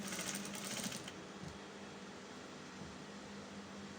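A sewing machine stitching a flared blouse with a quarter-inch seam, a steady close mechanical whirr for the first second, then a quieter low hum with a soft knock.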